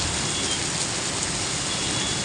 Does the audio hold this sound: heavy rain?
yes